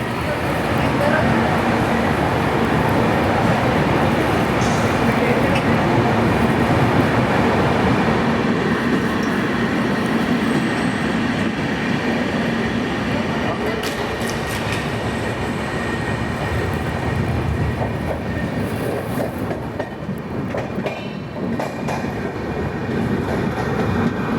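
The Vidarbha Express, train 12106, runs on the tracks out of Jalgaon Junction. It makes a loud, continuous rumble and rattle of rolling wagons that fills the whole stretch, heard from on board.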